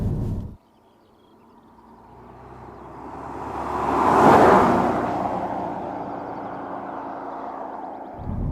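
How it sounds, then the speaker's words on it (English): A Jaguar XKR75 swells up from near quiet as it drives past, its engine and exhaust roar building to a loud peak midway, then easing off while still droning until it cuts out abruptly. "That's unleashed a little bit of that Jaguar roar"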